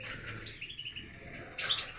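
Small birds chirping faintly in hot weather, thin high tweets through a quiet stretch and a brighter burst near the end.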